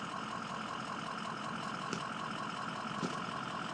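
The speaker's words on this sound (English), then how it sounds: "that's my truck, work truck" A truck engine idles steadily nearby, a constant low rumble with a couple of faint clicks.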